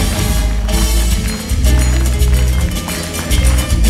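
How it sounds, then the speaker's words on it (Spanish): A church congregation claps along in a steady rhythm over loud music, with dense, continuous hand claps and possible foot stomping filling the room throughout. "Ayúdeme a aplaudir al Señor con toda gratitud, no solo con las manos, sino con los pies."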